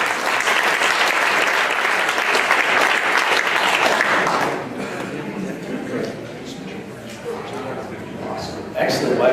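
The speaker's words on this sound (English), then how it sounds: "Can we give Patrick a little bit of a round of applause?" Real-estate investors' meeting audience clapping for a speaker, with loud, steady applause for about four and a half seconds before it fades into quieter room noise and some talk.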